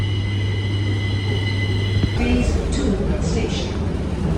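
A Delhi Metro train pulls into the station platform, its steady low rumble and hum filling the space, then a shift in tone as it slows, with faint squeals and people talking nearby.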